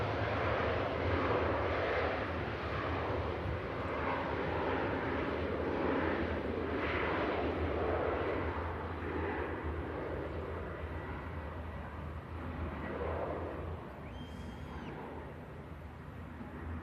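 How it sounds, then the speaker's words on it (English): A Finnair airliner climbing out from Manchester bound for Helsinki produces a broad, sustained engine roar from a distance, steady for most of its length and easing slightly toward the end. "There commences the climb out from Manchester, of course, heading to Helsinki"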